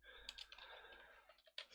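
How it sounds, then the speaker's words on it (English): Rapid tapping on a computer keyboard, a quick cluster of clicks close by but quiet, running together over faint background hiss. "I tap too fast and my cold fingers fumble around on the keyboard."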